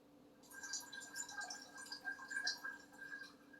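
Quiet splashing and trickling of water as something is rinsed, soft irregular bursts lasting a few seconds close by, with no talking.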